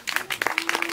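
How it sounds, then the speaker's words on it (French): Audience applause during a live stage show, a steady patter of many hands clapping at moderate volume for the whole second, with a faint voice running underneath. "Et on applaudit."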